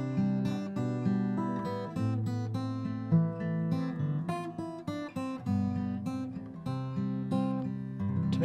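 A freshly tuned acoustic guitar played as a check after tuning with a tuner, a continuous strummed and picked passage of chords and notes, close and steady for several seconds with no talking.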